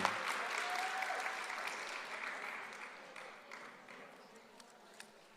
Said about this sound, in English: Let's give a big round of applause for the wannabes who won flight number 2.